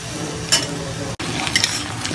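Chopped onions and potatoes frying in a pan, a steady close sizzle with a couple of brief stirring scrapes and one short break partway through.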